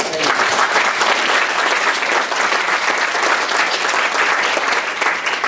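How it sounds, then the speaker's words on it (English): Steady, dense applause from an audience at a talk about emetophobia, greeting two women named Maggie and Jane; the clapping fills the whole stretch evenly, loud and close, with no pause. "if you give them a big round of applause"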